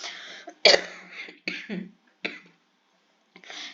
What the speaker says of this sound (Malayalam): എൻ്റെ ചുമ ഒന്ന് കുറഞ്ഞു വരുന്നതേ ഉള്ളൂ